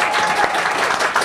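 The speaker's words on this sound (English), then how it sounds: "A round of applause for Matt," A brief burst of steady applause from a group, dense clapping filling the moment without pause.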